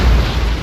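Cannon-firing sound effect in a small business loan advert: a single loud, deep boom that fills the short moment.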